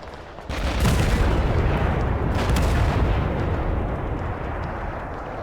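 Tank cannons fire in the war video game Total Conflict: Resistance as a dense, loud, sustained barrage of overlapping booms and rumbling that barely lets up.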